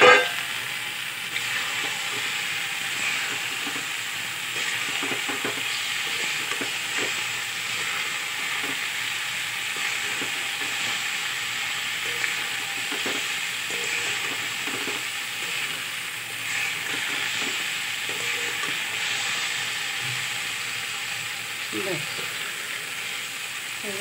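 Lata fish frying with kochur loti (taro stolons) in a pan, a steady close sizzle with broad hiss running unbroken throughout, punctuated by occasional faint scrapes of stirring.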